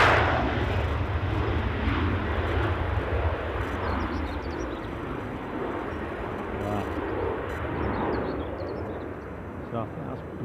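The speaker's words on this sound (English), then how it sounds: "it's a British Airways A320 that's on finals" A British Airways Airbus A320 on final approach produces a broad, steady jet roar, rising and easing slightly as it passes at moderate distance, with faint birdsong above.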